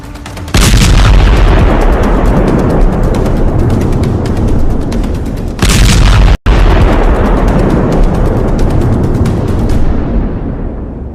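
A Houthi attack in the Red Sea sets off a series of loud, sustained blasts, rumbling booms from about half a second onward with a second heavy burst near six seconds and a brief dropout just after.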